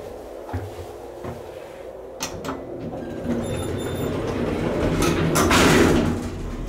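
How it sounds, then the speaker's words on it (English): A door slams in the hall of an antique Shepard-Warner hydraulic elevator at Frazee Hall, with a few sharp knocks and clatters over a low mechanical rumble that swells toward the end. "Door slams."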